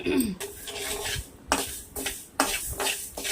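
Fenugreek seeds are dry-fried in a pan while being stirred, giving repeated scraping and rattling strokes with light clinks of the utensil, close and fairly quiet.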